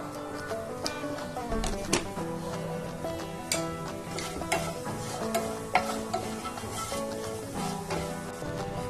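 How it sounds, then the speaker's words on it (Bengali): Whole spices, including cumin seeds, sizzle steadily in hot oil while a spoon stirs and scrapes the pan, with a few sharper clinks along the way. "ফোড়নগুলোকে একটু তেলের মধ্যে নাড়াচাড়া করে নেব"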